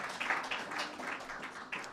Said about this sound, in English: And that deserves an applause,